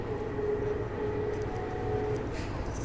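Inside a moving train in Akihabara, Tokyo, a steady rumbling ride noise carries a faint sustained electric whine, with no talking.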